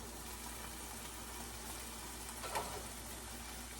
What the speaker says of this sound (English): I hear the bacon sizzling